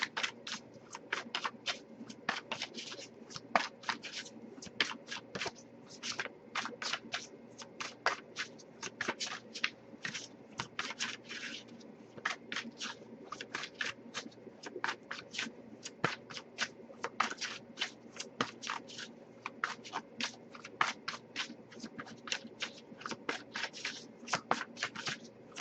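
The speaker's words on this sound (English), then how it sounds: "I'll give it a few more shuffles." Tarot cards shuffled by hand at close range, with quick riffling snaps and soft slides repeating steadily throughout, no talk.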